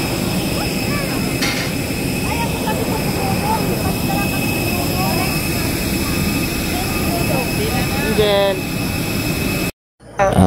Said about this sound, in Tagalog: Ito yung loob ng eroplano, medyo malaki yung sinakyan naming eroplano dahil kumakarga siya ng 240 passengers